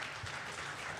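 Faint applause from a conference audience, a brief steady patter of many hands clapping, heard at a distance.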